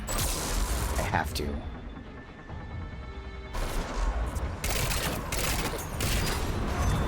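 Turret gunfire in the video game Mass Effect 3 (Legendary Edition): bursts of rapid shots and crashing impacts, briefly pausing before resuming in dense volleys, with someone speaking briefly over the combat.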